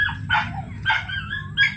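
A dog barks three times in quick bursts, fairly close, over a low steady background hum, on a farm.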